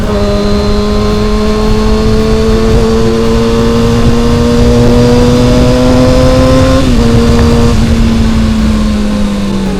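Close and loud, a Kawasaki 636 motorcycle with a JTEK aftermarket exhaust holds a deep, round rev that rises slowly, drops slightly near the end and carries on steadily, no voices over it.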